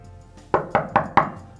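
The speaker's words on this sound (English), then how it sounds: "Knock assertively and announce your purpose." Four firm, evenly spaced knocks on a hotel guest room door, close and loud, by a room service attendant, with no talking.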